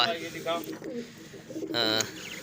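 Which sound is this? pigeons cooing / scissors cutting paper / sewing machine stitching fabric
pigeons cooing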